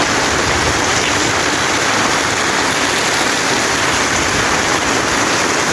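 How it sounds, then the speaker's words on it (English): Heavy rainfall pours down in Mombasa, a loud, dense, unbroken roar of rain and rushing water that fills the whole scene at close range. "it is raining like this."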